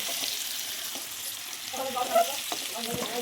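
Steamed taro frying in a pan with oil, a steady hissing sizzle throughout, with stirring clatter and a few utensil taps near the end.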